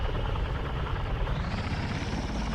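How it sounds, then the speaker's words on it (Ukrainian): Helicopter approaching in the Roblox military tycoon game, a steady loud rotor and engine drone that holds throughout with a slight rise in the upper range toward the end, no talk over it. "Хтось їде! Вертольот!"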